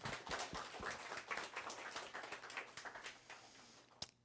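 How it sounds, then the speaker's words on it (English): A conference audience claps for its leaders, with scattered individual claps merging into moderate applause that thins out toward the end, and a single sharp clap just before it stops. "So I want to give our leaders a round of applause if you can."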